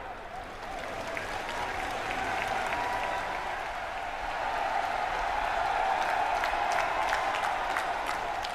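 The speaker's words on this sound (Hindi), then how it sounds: "जोरदार तालियां बजाएं।" Sustained applause from a large crowd at a public foundation-stone event in Aligarh attended by India's prime minister, steady and dense throughout with a constant roar beneath the clapping.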